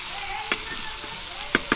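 Kachri (pehta) curry frying in a pan, a soft steady sizzle broken by three quick scraping knocks of a spatula stirring it.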